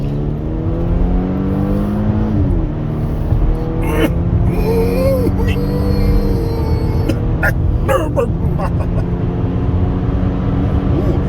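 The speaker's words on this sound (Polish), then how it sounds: "Czuję ten czterocylindrowy motorek z tą turbinką." Four-cylinder turbocharged engine of a 2020 Volvo S60 4x4 hums steadily from inside the moving car, a continuous low drone with shifting pitch as it accelerates, while people talk over it.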